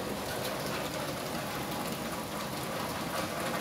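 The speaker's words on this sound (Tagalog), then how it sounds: "So umuulan na naman dito." Steady rain falls in La Libertad in a dense, continuous hiss, close and even throughout with no pauses.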